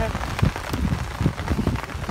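Rain falls in a steady, close patter on surfaces while people talk over it.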